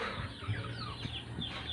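Soft, irregular clucking from chickens nearby, a few short calls over a steady low background of farmyard noise.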